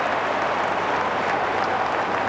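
Steady crowd noise at an AFL football match, Collingwood Magpies against West Coast Eagles, a broad continuous wash of clapping and murmuring from the stands with no distinct voices standing out.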